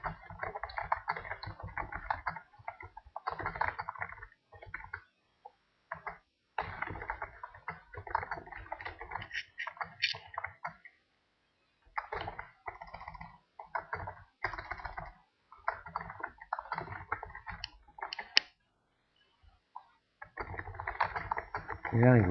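Rapid, continuous typing on a computer keyboard entering a block of text, dense bursts of key clicks broken by short pauses, close and alone without speech.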